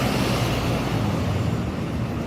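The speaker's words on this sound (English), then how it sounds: "Yeah, a lot of cars coming down." Cars stream down a busy New York City street in the West Village and Midtown, a continuous low rumble of traffic close by with no voices.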